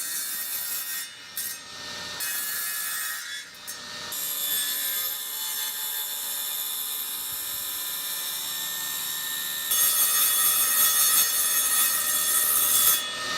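Steady, continuous sawing through a piece of oak wood in a workshop, a loud sustained whine with brief dips early on and a brighter, harder stretch near the end, with no talk.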